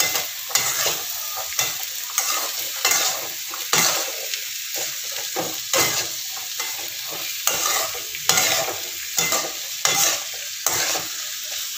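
Mango pieces stirred in a pan for pickle, a continuous close sizzle with repeated scraping strokes of a spoon against the pan in a loose, steady rhythm.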